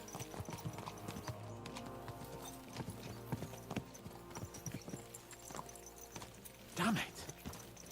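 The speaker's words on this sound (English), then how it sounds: "Let's really spur these horses on, eh?" Horse hooves clip-clop in a steady rhythm as riders travel on horseback in Kingdom Come: Deliverance 2, with a short neigh partway through and faint voices under the hoofbeats.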